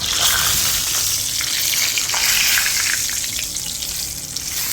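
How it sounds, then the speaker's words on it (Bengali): Thin strips of boneless chicken breast fry in hot oil, a loud, steady, close-up sizzle and crackle that holds throughout with no talk. "বুকের মাংসগুলো চিকন চিকন করে কেটে আমি চিকেন ফ্রাইটা করেছি"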